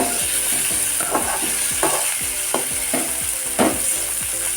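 Tomatoes sizzle steadily in a hot pan while being made into palak paneer, with a spoon scraping and stirring in repeated rhythmic strokes, close and clear over the constant frying hiss.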